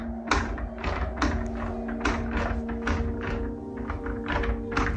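A small door in a horror scene bangs over and over, about a dozen hollow knocks at an uneven pace, close and steady over a constant low hum.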